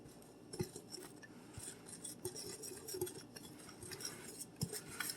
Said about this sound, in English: I'm going to mix it first because this is going to go on to the casserole